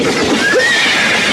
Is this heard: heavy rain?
no